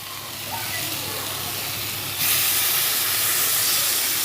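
Tomato puree hits spiced potatoes frying with ginger and green chilli, setting off a loud, steady sizzling hiss that grows stronger partway through and continues without pause.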